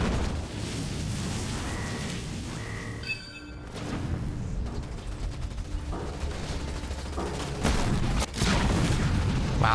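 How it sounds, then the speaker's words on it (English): A victory turret in Halo Wars 2 pounds an enemy base during a competitive match, firing rapid bursts of heavy gunfire and booming impacts that clatter and echo, with louder blasts toward the end. "Wow, that victory turret doing work."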